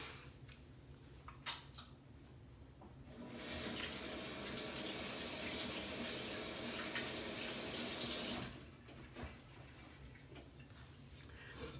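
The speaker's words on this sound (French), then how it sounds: "j'ai juste me laver les mains" A kitchen water tap runs for about five seconds as hands are washed, a steady close splashing flow that starts and stops cleanly amid faint background clatter.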